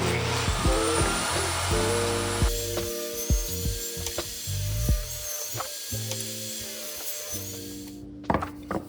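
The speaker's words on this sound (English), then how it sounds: "I'm going to start by ripping them down into 1 3/4 inch pieces." A power saw rips teak boards into strips 1 3/4 inch wide. It whines steadily and loudly, with shifting pitch and short bumps as the wood feeds through, then cuts off near the end.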